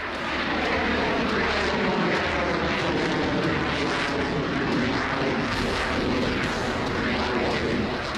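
Military fighter jet flying, a loud continuous roar with a broad rushing engine noise that holds steady the whole time, close and dominant, with faint repeated sharper bursts riding on top.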